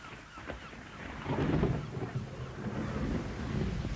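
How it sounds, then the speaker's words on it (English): Low rumbling thunder rolls on continuously from an approaching electric storm at sea, fairly faint and distant, swelling in waves with wind noise and no talk. "I'm sure that storm is getting closer."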